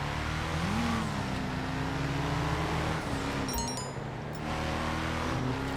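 A customized car from Benny's in GTA Online revs its engine with a steady mid-pitched drone and a rising climb, heard alone and fairly faint, with a brief higher whine near the end.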